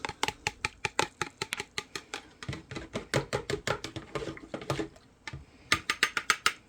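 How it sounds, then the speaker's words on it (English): A spoon stirs starch into broth in a measuring cup, making a rapid run of sharp clinks and taps close by that pause briefly, then resume in a quicker burst. "that noise is me stirring it up"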